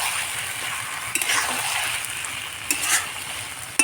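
Fish fries in a blend of white oil and mustard oil, a close, continuous sizzle broken by a few sharp clinks and scrapes of a utensil against the pan.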